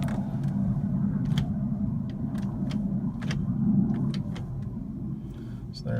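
An STX performance shifter clicks through the gears of a TREMEC Magnum 6-speed in a 1978 Trans Am, with a series of short, sharp mechanical clicks over a steady low engine rumble.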